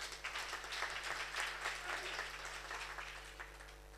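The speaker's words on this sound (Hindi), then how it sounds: "आप अपने लिए भी ताली बजा सकते हैं भाई" Clapping from the audience at a workers' convention, faint and fairly distant, swelling in the middle then thinning out, over a steady low electrical hum.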